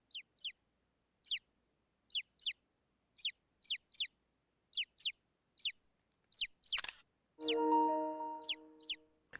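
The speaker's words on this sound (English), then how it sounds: "I'm trying to get a picture of the chickens." Chickens in The Great Ace Attorney Chronicles video game give stylized, cartoonish clucks: short, sharp, high chirps repeated in uneven bursts, followed near the end by a brief, louder burst and a longer tonal sound.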